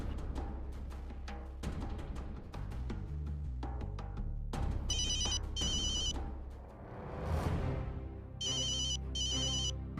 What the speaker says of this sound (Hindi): दामाद जी का फोन।